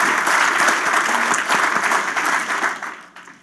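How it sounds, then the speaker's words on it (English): An audience at a talk hall bursts into dense, close applause that holds steady for a few seconds, then tapers off quickly. "give yourselves an applause"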